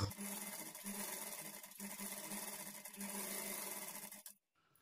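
A sewing machine runs steadily while stitching a small frill onto a blouse, its motor whirring close and continuous for about four seconds before cutting off into near silence.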